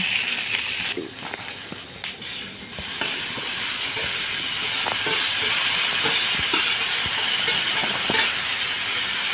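Green chillies sizzle steadily in hot oil in a pan for a tomato curry, a loud continuous hiss that swells after a quieter start with faint crackles underneath.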